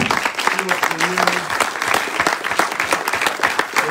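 A ceremony audience at an inaugural address and installation event claps loudly and continuously, dense and close, with a voice briefly heard over the applause.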